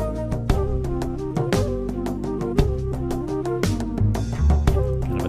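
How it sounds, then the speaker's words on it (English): An African log drum is struck in a steady, rhythmic pattern of sharp wooden hits with resonant tones, layered over a busy backing track with sustained bass, close and fairly loud with no talking. "This is an African log instrument I have,"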